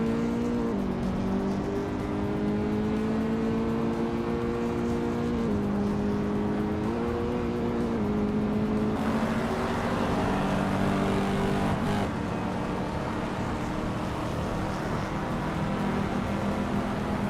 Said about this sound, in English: Gilgi Numericals just sneaked past one car to grab 7th.